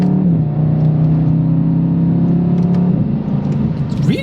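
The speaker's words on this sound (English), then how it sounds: "Oh, that engine, I'm gonna flick it into manual" A 2023 BMW M850i Convertible engine revs while being driven in manual mode, a steady close growl that holds, dips briefly, then rises again over about four seconds, with no talking.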